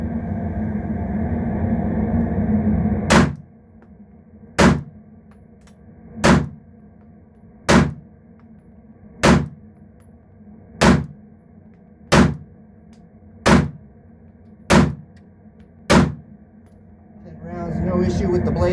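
Kimber KDS9c compact 9mm pistol firing Blazer ammunition: ten sharp, loud shots in a steady cadence about every second and a half, following a steady background hum.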